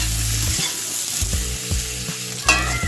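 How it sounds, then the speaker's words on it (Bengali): Cauliflower florets fry with turmeric powder in a hot pan, giving a steady close sizzle broken by repeated clattering stirs and scrapes, with no voices. "এখন আমি হলুদ গুঁড়ো দিয়ে ভালো করে একটু ফুলকপিগুলোকে ভেজে নেব।"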